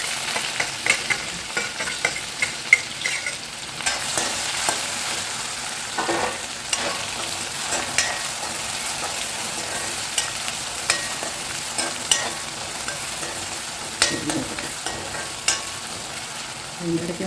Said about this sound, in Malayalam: കടുക് പൊട്ടി നമുക്ക് ഇതിലേക്ക് ഉള്ളി ഇട്ട് വെക്കാം.